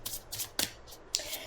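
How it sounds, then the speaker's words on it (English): A tarot card deck shuffled by hand up close, with quick riffling bursts and soft papery flutters in a short run, under faint whispery breath. "I'll shuffle one more time"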